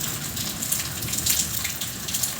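Rain falls steadily on a surface in farm country, a dense, even hiss of drops with scattered nearer splashes and no voices.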